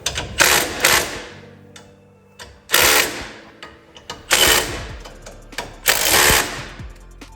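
A power tool drives bolts on a 2005–2009 S197 Mustang rear differential, with four loud ratcheting bursts of about half a second each, separated by short pauses.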